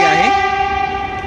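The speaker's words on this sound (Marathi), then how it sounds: "तर ही मेट्रो आलेली आहे" A Pune underground metro train pulls in and sounds its horn, a loud, close, sustained multi-tone blast that dips briefly at the start and then holds steady in the echoing station.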